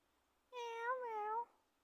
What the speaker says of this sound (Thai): แมวแมวเรามาเจอแมวมีเจ้าของค่ะ